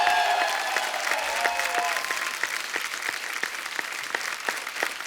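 Studio audience on a television comedy show keeps up loud, even applause, many hands clapping densely and without pause, with some faint voices and music underneath.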